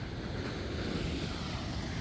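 Ocean waves wash onto a beach at night, a steady broadband rushing surf close by with wind noise, no talking.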